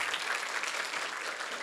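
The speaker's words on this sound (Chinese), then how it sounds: "请掌声鼓励。" Audience applause at a school string orchestra concert, a short steady patter of clapping from a moderately sized crowd, somewhat distant.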